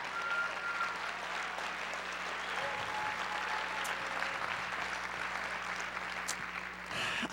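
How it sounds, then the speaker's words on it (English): An audience applauds Freeman Kwadzo Dankor at an evening gathering: steady, dense clapping sustains evenly for several seconds at moderate distance, ending with a brief louder burst. "Let's have a round of applause for Freeman,"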